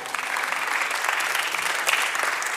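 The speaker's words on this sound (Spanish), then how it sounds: "Dale un aplauso al Señor." Congregation in a church breaks into steady, dense applause, a continuous wash of many hands clapping close by with no pauses, filling the space for a few seconds.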